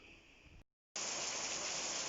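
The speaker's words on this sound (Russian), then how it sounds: "У нас ливень вообще стеной просто пошел." Heavy downpour falling like a wall outside a house in the forest, a dense, loud, unbroken hiss that cuts out briefly and then returns even stronger.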